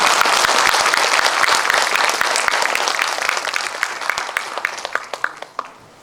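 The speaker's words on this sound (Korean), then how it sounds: "박수로 보내주시기 바랍니다." A hall full of residents at a 2023 neighbourhood town hall meeting in Areum-dong, Sejong applauds loudly, the dense clapping thinning toward the end into a few scattered, fading claps.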